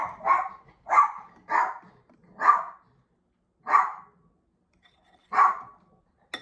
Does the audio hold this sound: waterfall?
no